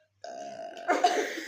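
One loud, close burp during a burping contest, a drawn-out throaty belch lasting over a second that grows rougher and stronger toward its end.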